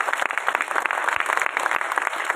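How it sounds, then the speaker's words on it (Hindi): Audience clapping welcomes theatre actors of a drama troupe in Rewa before their play, a dense, steady burst of applause from a crowd, fairly close and continuous for a couple of seconds. "जोरदार ताली से स्वागत कीजिएगा हमारे साथी कलाकारों"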